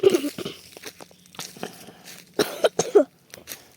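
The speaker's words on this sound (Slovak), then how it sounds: "Prepáčte, vážne kašlem." Someone coughs repeatedly during a walk through forest and meadow at Lučina, a string of close, sharp coughs in two clusters separated by a brief quieter gap, with no talking.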